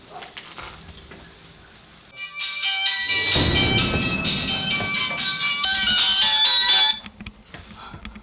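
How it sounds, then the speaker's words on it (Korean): A phone rings at dawn with a bright electronic ringtone that starts after a quiet stretch, holds loud and steady for about four seconds, then stops abruptly. "새벽에 전화가 울리더라고요."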